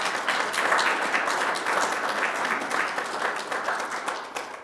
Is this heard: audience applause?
yes